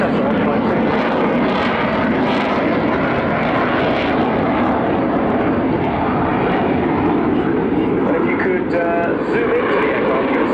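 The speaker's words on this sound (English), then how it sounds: "The aircraft's currently flying at about 110 knots" Large aircraft flying slowly at about 110 knots at RIAT 2018, a steady loud engine drone held throughout, with a commentator speaking over it.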